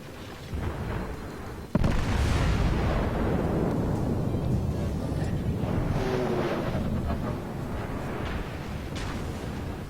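Naval gunfire in World of Warships, with a sudden heavy boom followed by a long, loud rumbling roll of cannon fire and sea noise that sustains and slowly fades, no talking.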